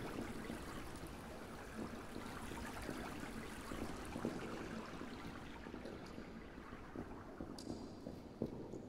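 A river flows through a cave in the survival game Subsistence, a steady, moderately loud rushing and trickling of water that runs on without a break and has no talking over it.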